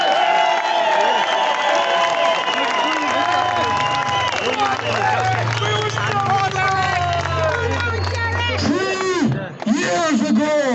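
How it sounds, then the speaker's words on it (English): A protest crowd in Cork City applauds and cheers, with scattered shouts and whoops over steady clapping and a low hum running beneath, while voices call out near the end. "So can I get a big round of applause,"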